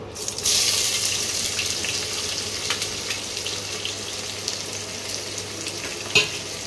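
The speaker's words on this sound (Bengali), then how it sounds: "এবারে আমি এই তেলের মধ্যে পেঁয়াজটা ভেজে নেব।" Chopped onion frying in hot oil for a Bengali banana-flower dopiaza, a steady close hiss and sizzle with a loud burst as it goes into the pan, then an even crackle with an occasional clink near the end.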